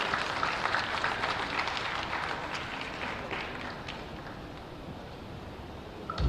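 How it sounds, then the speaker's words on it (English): Conference audience applauding on a sports-sector investment stage, a dense wash of clapping that starts strong and slowly fades over several seconds. "Can we have a huge round of applause for him, please?"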